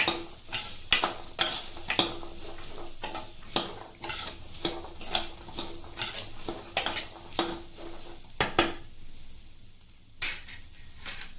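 Chickpea usli with grated coconut being stirred in a pan, a spoon scraping and tapping the metal in a steady rhythm over a soft sizzle, close and clear with no talking.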